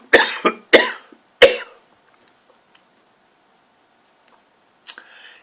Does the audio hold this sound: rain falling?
no